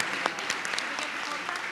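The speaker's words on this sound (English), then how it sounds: "one more hand of applause to all of these great people" An audience at the San Francisco Immigrant Leadership Awards 2023 ceremony claps in dense, sustained applause, many hands close together, with a voice speaking over it.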